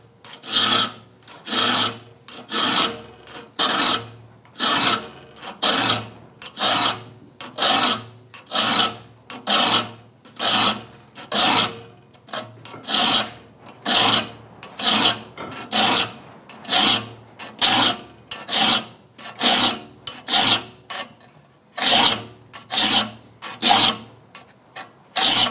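A hand file sharpens the teeth of a rip saw in a steady rhythm of rasping strokes, two per tooth, close and loud, each scrape followed by a short pause, repeating throughout with no talking.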